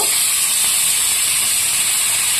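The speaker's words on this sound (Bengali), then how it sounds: "তো তেলটা বসিয়ে দিয়েছি, এখানে আমি মাছ এক পিস ভেজে নেব।" A piece of fish frying in hot oil, giving a steady, bright hiss that holds evenly for the whole stretch with no talking.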